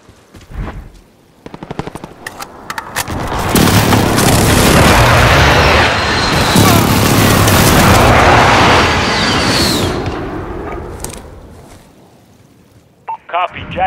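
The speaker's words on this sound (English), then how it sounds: "Enemy precision airstrike." Explosions from an enemy precision airstrike in Call of Duty team deathmatch on a sawmill map, a loud sustained roar of blasts and gunfire lasting several seconds before fading, with game voice callouts around it.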